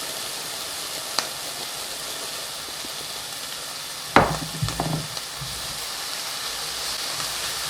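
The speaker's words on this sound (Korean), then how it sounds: "잘 섞이도록 볶아주세요." Eggplant stir-fries in a pan with minced garlic, soy sauce and ground sesame seeds under a faint steady sizzle, and a sudden burst of loud sizzling and scraping stirs comes about halfway through before it settles back down.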